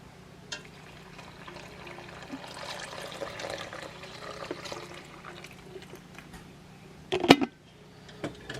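Four cups of water pour from a container into a bag of chili mix with sauce and tomatoes, a soft continuous trickle that ends in a brief louder splash near the end.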